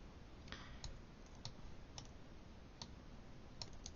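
Faint, sharp mouse clicks on a computer while adjusting blend sliders in Photoshop, a handful of isolated ticks spaced irregularly over a quiet background hiss.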